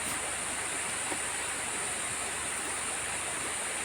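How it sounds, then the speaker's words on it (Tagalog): Cool river water flows steadily as a constant soft rushing hiss, even and unbroken, with no voices over it. "Talagang running water ito guys, ano? hindi dumudumi ang tubig"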